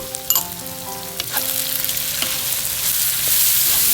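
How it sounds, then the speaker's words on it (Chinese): Garlic, coriander root and onion hit hot oil in a wok, with sharp clinks and clatter as they drop in, then a loud, steady sizzle building and swelling, close up with no voices. "稍微的翻炒一下"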